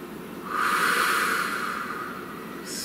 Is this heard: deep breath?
yes